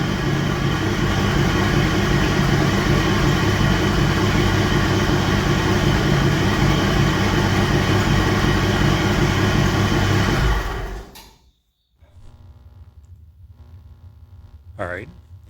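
The engine of a 1951 M37 military truck idles in a shop, a loud, steady low rumble that cuts out near the end, with a voice talking over it.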